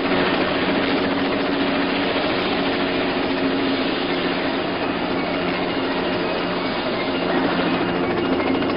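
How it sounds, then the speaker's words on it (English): A helicopter carries passengers in a 1988 action film, its steady dense roar continuous and loud throughout, with no talk over it. "Our own helicopter to take us around."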